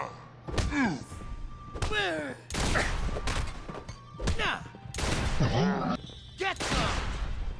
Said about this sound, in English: What jackass uses a rocket launcher in close quarters?